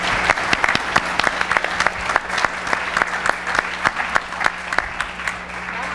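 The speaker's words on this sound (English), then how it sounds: "let's give a great round of applause to our wonderful panelists" Conference audience applauding the panelists after an advertising panel, a run of sharp, fairly sparse claps at moderate distance that thin out toward the end.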